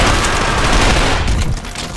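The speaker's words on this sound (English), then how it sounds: "This SMG is a Chris Vector" A Kriss Vector submachine gun in the shooter game Trepang2 fires a dense, rapid automatic stream of loud shots, continuous for about two seconds before easing slightly at the end.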